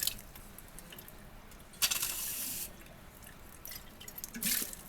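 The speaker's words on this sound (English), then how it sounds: "I'm going to rinse this down the drain with tap water, copious amounts of tap water" Tap water runs into a lab sink as an Erlenmeyer flask is rinsed down the drain, a soft hiss of flow with louder splashing bursts as water hits the glass, close and moderate.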